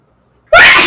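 A single sudden, loud sneeze bursts out close up after a moment of silence, sharp at the onset and then sustained and breathy.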